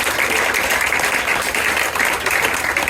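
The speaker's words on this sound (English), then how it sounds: "A round of applause for all you fantastic people." Applause from a live comedy game-show audience, a continuous, dense wash of clapping that stays at an even level throughout with no talking over it.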